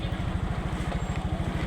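A motorcycle engine putters nearby with a rapid, regular low-pitched pulsing throughout the brief moment, fairly steady in level, with faint voices in the background.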